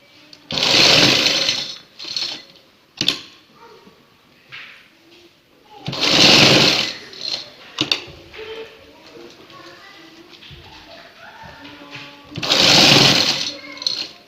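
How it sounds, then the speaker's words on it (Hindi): Sewing machine stitching buckram onto a trouser hem runs in three loud, close bursts of a few seconds each, with someone speaking in the gaps between them. "बिल्कुल साथ साथ बुकरम की सिलाई लगाएं, ऊपर ना लगे।"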